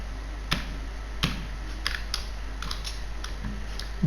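Code is typed on a computer keyboard as a sparse, uneven series of crisp key clicks over a steady low hum, with no one talking.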